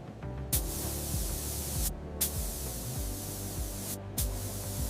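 Spray painting a fresh finish onto mechanical keyboard parts gives bursts of hissing aerosol, about three distinct sprays separated by brief pauses, close and fairly loud over a low background hum.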